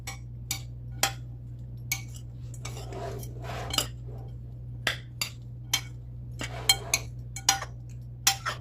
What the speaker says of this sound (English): So let's go ahead and get this stirred.